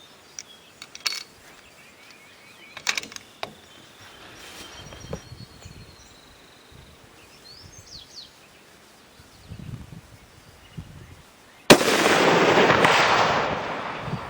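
Rifle shots fired at a steel target 300 yards away ring out as a few sharp, scattered cracks over quiet outdoor ambience, followed by a sudden loud, sustained rush of noise near the end.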